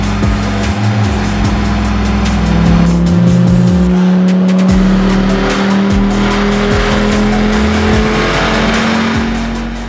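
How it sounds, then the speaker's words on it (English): Modified Dodge Viper engine revving hard on a dyno, loud and close, climbing through the rev range in a long sustained pull with a rising whine, then easing off near the end. "That's our modified dyno run right now."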